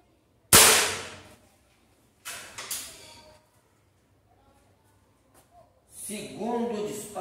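Rossi Dione third-generation air rifle fired at a tyre from about 7 metres, with one sharp loud crack, a second weaker impact a couple of seconds later, and talk toward the end.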